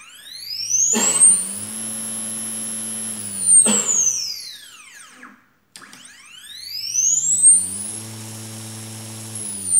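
A stepper motor spun up to high speed in a mechatronics start-stop test whines loudly with rising and falling pitched tones, ramping up and down twice with a brief silent gap between runs, no voices present.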